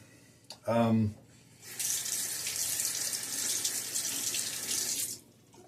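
Tap water runs steadily for several seconds while a Timeless SS .68 open-comb safety razor is rinsed at a sink, a near, even hiss after a brief voice.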